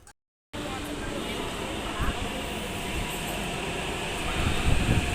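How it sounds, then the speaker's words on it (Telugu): A metro train pulls into a station platform with a steady rumbling roar that swells louder toward the end, after a brief silence at the start. "మొత్తానికైతే మెట్రో వచ్చేసింది."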